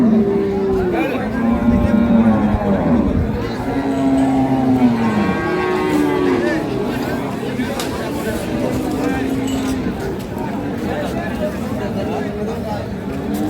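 An improved-breed dairy cow with her calf lows at the Ambari cattle market, giving several drawn-out moos close by over steady crowd chatter and people talking.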